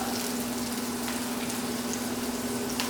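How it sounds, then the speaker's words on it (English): Sliced onion and green pepper sautéing in a pan, a steady close sizzle and crackle with a low hum underneath, continuous throughout with no talking. "And I'm just going to saute this up."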